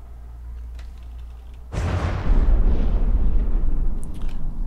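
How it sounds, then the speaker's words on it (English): A sudden loud explosion erupts in the naval combat game From the Depths as a Queen Mary ship rams a battleship and a tug, followed by sustained rumbling blast noise and continued destruction that stays loud until the end. "Okay, that was unexpected, that explosion."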